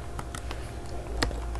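Someone types on a computer keyboard with irregular, fairly quiet key clicks over a steady background hum, with no speech.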